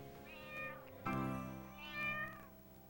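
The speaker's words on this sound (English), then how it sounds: "Meow." A cat meows three times, close and clear, each call rising then falling, the middle one loudest.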